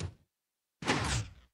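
A wooden door in Minecraft swings shut once the redstone power is cut, a single short burst of clattering noise following a brief faint sound and a moment of silence.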